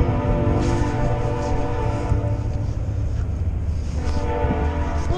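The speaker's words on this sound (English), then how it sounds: "I'm sorry about the train" A train passing near a lawn-mowing spot, a loud sustained rumble with a droning horn tone held throughout and swelling again near the end, with no talking.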